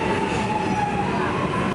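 A train passes close by in the Cinque Terre. It makes a loud, continuous rolling rumble with a sustained metallic squeal, filling the whole short moment.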